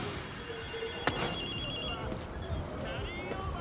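A telephone rings in the video game Ghostwire Tokyo, its electronic ringtone chirping in short repeated bursts at moderate level beneath continuous game ambience, with a person talking over it.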